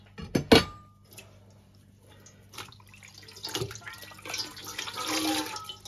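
Dishes are rinsed under a running kitchen tap in a sink, opening with a few sharp clinks and clatters, then a steady stream of water splashing that grows louder toward the end.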